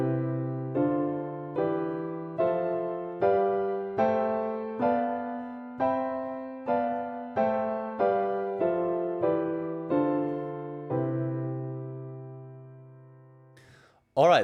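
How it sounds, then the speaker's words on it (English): Piano seventh chords ring out one by one up and down the scale, about a dozen evenly spaced struck chords with a final longer held one. "And you can also start to play around with the seventh chords."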